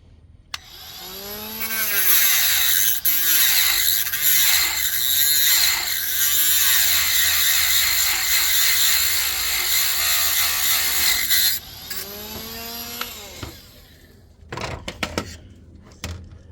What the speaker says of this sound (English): Dremel all the way through that